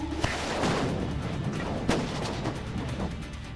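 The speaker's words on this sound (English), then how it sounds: "a series of blasts that followed a tanker truck explosion" A rapid series of sharp blasts and booming pops from a tanker truck fire in West Nashville rings out from a distance, overlapping in a rumbling, crackling barrage with no talking.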